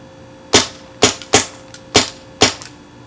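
A BT TM-15 paintball marker fires five single shots in semi-auto at an uneven pace, each a sharp, fairly close pop that fades fast, with quiet gaps between and no talk.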